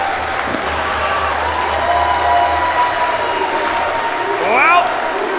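Arena crowd in the wrestling video game Fight Forever, during a wXw four-way match in Oberhausen, roaring and applauding steadily throughout, with a swell of cheering near the end.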